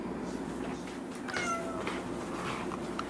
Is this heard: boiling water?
no